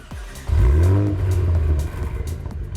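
A 2022 Cadillac CT4-V Blackwing's twin-turbo 3.6-liter V6 revs up close and loud, swelling into a deep rising growl that holds for about a second before easing back to a lower rumble.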